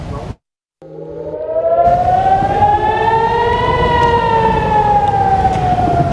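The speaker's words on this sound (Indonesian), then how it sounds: "Sirene pun terus berbunyi tanpa henti saat rudal memasuki langit kota Naharia." An air raid siren wails over Nahariya during a rocket attack, loud and steady. After a brief cut, the rising tone climbs and holds in one long sustained howl with rich harmonics, heard alone.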